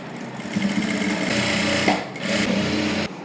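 A sewing machine runs a seam on the inside of a child's silk skirt, a close, loud, rapid whirring burst that stops briefly and then restarts.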